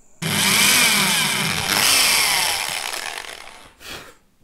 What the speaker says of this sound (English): I want to use a 500 watt hammer drill, which is totally inappropriate.